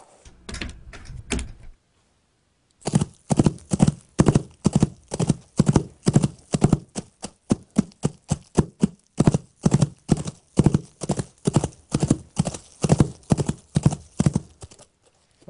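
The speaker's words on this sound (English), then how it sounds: "so I just laid down the horse footsteps" Foley horse hooves struck on a surface with purpose-made hoof props, first a short burst of quick clatter, a pause, then a long steady clip-clop walking rhythm, close and loud with no talk.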